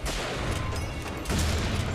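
Sustained gunfire in BioShock Infinite, a dense, loud barrage of shots running throughout with a heavier burst near the end.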